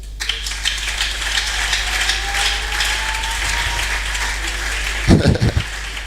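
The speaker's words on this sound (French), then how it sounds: "Je voulais qu'on acclame Dieu pour les pasteurs." A crowd at a church conference applauds in a steady, dense patter, with a low hum underneath. A brief burst of louder voices or cheering breaks in near the end.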